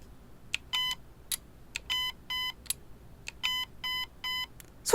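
A run of short electronic beeps from an INF M4 airsoft electric gun being programmed, some single chirps and some longer tones, spaced irregularly against a quiet background.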